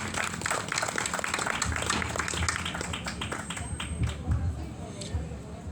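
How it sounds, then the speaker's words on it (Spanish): Audience at a cultural presentation claps for an oral storyteller, steady moderate applause with crowd murmur throughout that fades slightly near the end. "para quien les pido por favor un fuerte aplauso"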